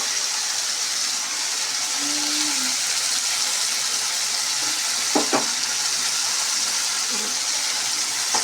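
Dried bommidi fish fry in oil in a pan, giving a steady, close hiss of bubbling oil with a couple of sharp utensil clinks partway through.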